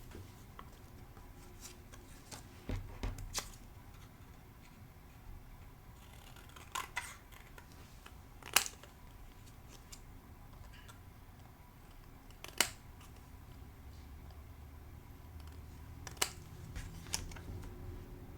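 Snips cut basic white cardstock for a card, heard as a handful of sharp, isolated clicks spread far apart over quiet room tone, with no one talking.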